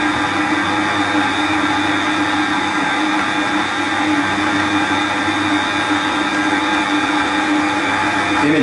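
An electric mixer whisks eggs and sugar at speed 2 for a génoise sponge, giving a steady, unbroken motor whir that stays loud and even throughout, with no voices.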